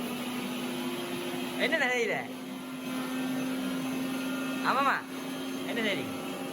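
A kitchen mixer grinder whirs steadily while grinding spices, a constant electric drone running under a voice that speaks over it in short bursts.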